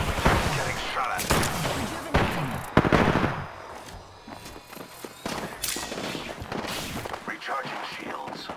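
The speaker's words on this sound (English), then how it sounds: "Getting shot at." Video game gunfire in a sci-fi shooter, several sharp bursts and rattling volleys at close range, with footstep-like scuffs between them and a game voice heard under the shots.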